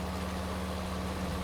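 A tractor engine runs steadily in Farming Simulator 19, a constant low droning idle with no change in pitch across the short stretch.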